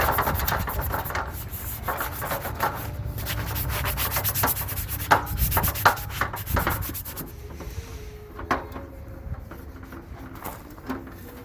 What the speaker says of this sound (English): Just give her a quick sand and a clean up and a paint